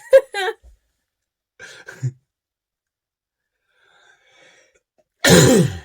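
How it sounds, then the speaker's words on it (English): A single loud, harsh cough bursts out after a quiet stretch with a few soft voice sounds earlier. "Stop coughing."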